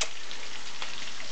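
Carrots for a seafood lumpia filling hit a hot pan, setting off a loud, dense, steady sizzle that fills the whole short moment, with no voice over it.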